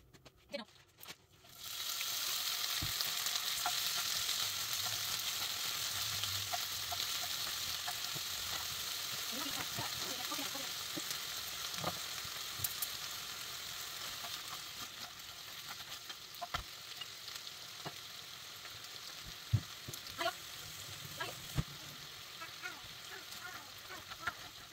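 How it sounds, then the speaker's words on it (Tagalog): Okra sizzles steadily in a hot pan for a beef, okra and tomato stew, a continuous frying hiss with occasional scrapes and clicks of stirring, close and fairly loud throughout. "Bago natin ihalo ang okra sa karne, gisahin muna natin."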